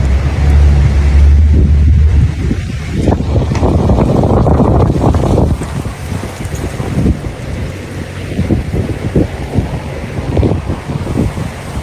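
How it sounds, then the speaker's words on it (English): Gusty wind roars across the microphone, heavy and steady at first, then rougher and more uneven with bursts of buffeting. "Very windy."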